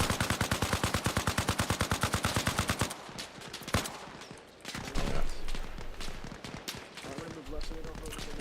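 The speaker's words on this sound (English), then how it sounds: "We are taking fire." Gunfire in an Arma Reforger firefight: a rapid, evenly spaced automatic burst opens loud and close, then gives way to scattered single shots and distant exchanges, with a voice talking under the later part.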